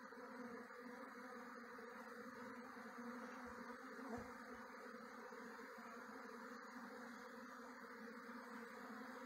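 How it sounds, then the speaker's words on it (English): A swarm of thousands of honey bees flying through the air on a homestead, a steady dense buzzing drone that holds evenly from start to finish with no voices. "there are just thousands of bees in the air"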